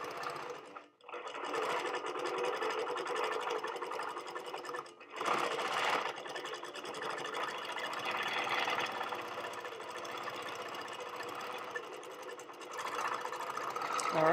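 A Handi Quilter Moxie longarm quilting machine basting a quilt runs with a steady, close stitching whir. The sound dips briefly twice near the start, then carries on without a break.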